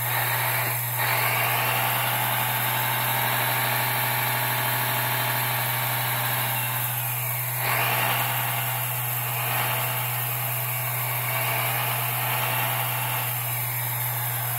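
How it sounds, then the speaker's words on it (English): A ready-to-run hydraulic radio-control excavator works three cylinders together, extending and then retracting them, giving a steady mechanical whine and pump hum with a low electrical buzz throughout and brief changes in pitch as the load shifts. "I'll try to expand all the three cylinders, and I'll try to contract the three cylinders at the same time"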